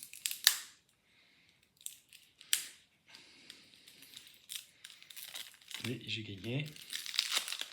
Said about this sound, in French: je suis en train de me battre hors caméra avec un paquet de cartes